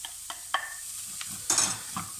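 Chopped fennel frying in a little oil in a pan, with a soft sizzle under several short stirring scrapes, close and brief.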